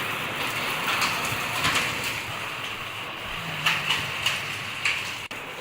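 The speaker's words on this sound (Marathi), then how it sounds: "वाशिमसह मालेगाव तालुक्यातील अनेक ठिकाणी आज अवकाळी पावसाने चांगलं झोडपून काढलंय." Unseasonal rain falling across Malegaon taluka near Washim, heard as a steady broadband hiss of rainfall with a few brief louder patters and knocks, continuous throughout with no voices.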